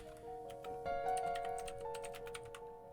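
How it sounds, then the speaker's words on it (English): Rapid, steady typing on a computer keyboard, close and clear, keys clattering in a quick irregular rhythm with no voices. "Sorry, that was me. I was typing."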